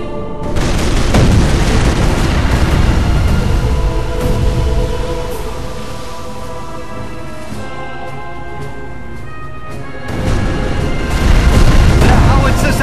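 Howitzer shelling in the Company of Heroes: Opposing Fronts battle at Oosterbeek, a dense, sustained barrage of deep booms and rumbling blasts that eases midway and then swells loud again.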